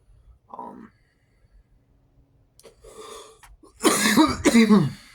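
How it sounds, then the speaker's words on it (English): A person with a bad cough coughs twice, loud and close, after a few quieter breaths and throat sounds, with brief speech earlier. "I have a bad cough."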